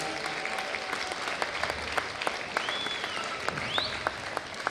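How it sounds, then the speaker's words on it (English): A crowd at a darts festival finals gives a big round of applause, dense sustained clapping throughout, with a couple of rising whistles cutting through near the end. "Give yourself a big round of applause, right?"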